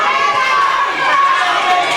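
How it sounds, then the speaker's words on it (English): A crowd at an indoor wrestling show shouts and cheers loudly and continuously, with excited voices, children's shrieks among them, carrying steadily through the whole moment. "every time Frankie lands a blow, Santa cheers"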